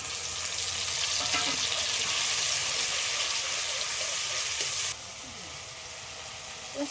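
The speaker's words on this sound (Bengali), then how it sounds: "পেঁয়াজটা তো হালকা করে ভেজে নিয়েছি এবার গ্রেট করে রাখা টমেটোটাও দিয়ে দিচ্ছি" Grated tomato hits lightly fried onions in hot oil for a fish and chicken recipe, and a loud, steady sizzling hiss fills the pan before it abruptly drops to a quieter simmer.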